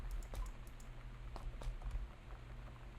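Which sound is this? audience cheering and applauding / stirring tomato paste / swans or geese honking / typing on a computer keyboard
typing on a computer keyboard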